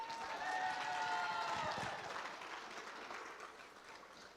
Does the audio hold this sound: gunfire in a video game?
no